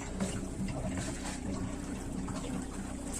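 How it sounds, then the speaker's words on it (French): Water rushes into a homemade gas-free, electricity-free heating circuit after the supply is opened, a steady close hiss of flowing and filling liquid with a low hum beneath, continuous throughout. "Allez, on allume l'eau."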